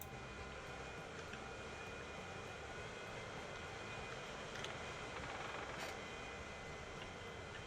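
A cargo plane in the video game Transport Fever 2, a steady, fairly quiet broadband engine roar that holds constant throughout, with a few faint clicks on top.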